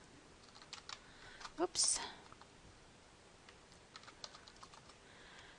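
Computer keyboard typing while entering an SQL query, soft scattered key clicks with a brief louder burst, and a quiet voice speaks a single word.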